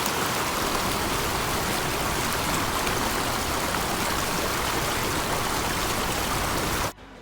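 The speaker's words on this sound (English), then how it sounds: "It's the sound of raging waters." Raging stream water rushing through a park, a loud, dense, continuous roar of churning water close by that holds steady for about seven seconds before cutting off abruptly, with no talk.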